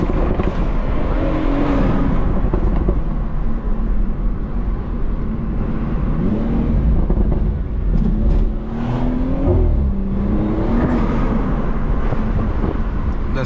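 A BMW 340i on the move lets out a loud intake and exhaust roar from inside the cabin, with repeated surges and gear changes as it accelerates and is driven hard. The sound is continuous, with no talk over it.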